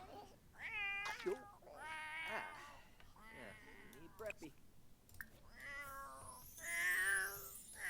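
A cat meows repeatedly, a string of insistent, drawn-out, wavering cries that rise and fall, some harsher and more strained, close by with faint background noise.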